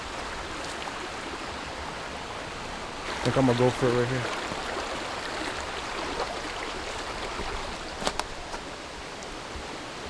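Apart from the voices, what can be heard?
creek water flowing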